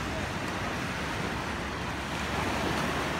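Ocean surf rolling onto a beach in Goa at high tide, a steady, broad wash of breaking waves with some wind across the microphone, continuous and fairly loud with no pauses.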